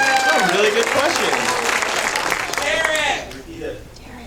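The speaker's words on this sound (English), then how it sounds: "round of applause for that question" Audience applause at a fan convention Q&A with an actress, a loud burst of clapping mixed with cheers and overlapping voices that drops off abruptly after about three seconds, leaving talk and scattered claps.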